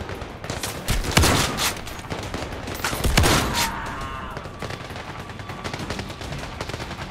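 Shotgun blasts in the video game Zero Caliber during a training session, several loud sharp reports spaced irregularly, with a couple of heavier booms and lingering rumble between shots.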